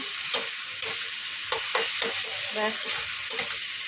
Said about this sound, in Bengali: দেখো এখানে চানার মশলাটা কষাচ্ছি